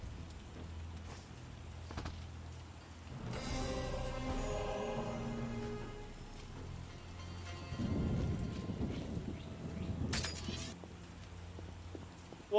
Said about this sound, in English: What a wonderful downpour